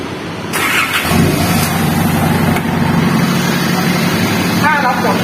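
Isuzu D-Max pickup engine starting remotely via smart key, a cranking burst then settling into a loud steady idle rumble, with someone talking over it.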